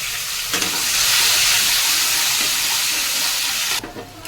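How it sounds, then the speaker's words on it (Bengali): Green beans fry in a hot pan with a loud, steady hiss and crackle that holds for several seconds before dropping away sharply. "এবার আমি বিনসগুলো ভেজে নেব।"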